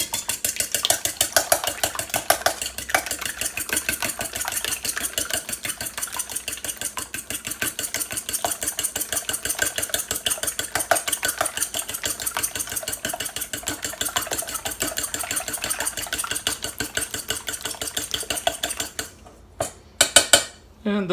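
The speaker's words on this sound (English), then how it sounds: "And now I'm going to beat the eggs. To do this, I'm simply going to use a small fork." Eggs beaten with a small fork in a bowl, a fast continuous run of light metallic clicks that holds an even rhythm for about twenty seconds and breaks up into a few separate taps at the end.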